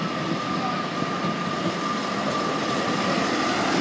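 Train 158851 pulls out of Doncaster station, a loud, steady rail rumble with a faint high wheel whine running throughout and no voices.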